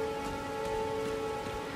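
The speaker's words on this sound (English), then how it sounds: "Maybe it's because it's raining?" Steady rain falls in Elden Ring, a continuous even hiss of drops on the ground with a faint constant tone underneath, fairly loud and unbroken.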